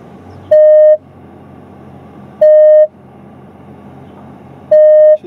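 Three loud electronic parking sensor beeps from a Dodge Challenger R/T 6.4 V8 SRT, each about half a second long, spaced evenly by roughly two seconds over a low engine hum.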